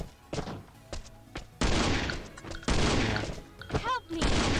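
Explosives blasting through a player's base in the survival game Last Island of Survival, with several loud, broad bursts and crashes in quick succession, close and heavy, mixed with thuds between the blasts.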